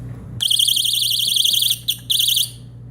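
A door alarm system gives a loud warbling electronic beep that sounds continuously for over a second, briefly cuts out, chirps once, then resumes before stopping, over a low steady hum.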